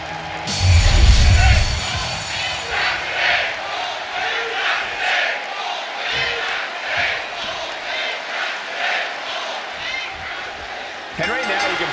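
Arena crowd in the WWE 2K25 wrestling video game roars and cheers steadily as the Ultimate Warrior prepares to compete, a loud sustained wash of voices with a heavy burst at the start, under a commentator's talk.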